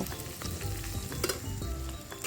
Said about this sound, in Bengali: ফোড়নটা একটু নেড়ে চেড়ে নিয়ে গন্ধ বেরিয়ে আসলে মিষ্টি কুচনো পেঁয়াজ দিয়ে দেব